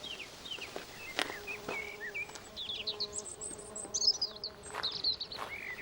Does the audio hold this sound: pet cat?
no